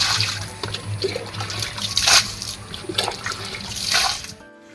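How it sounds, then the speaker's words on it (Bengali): Water splashes and pours as the outdoor area of a house is washed, an uneven run of gushes and splatters lasting a few seconds before cutting off. "বাইরেটা একটু ধুয়ে দিই"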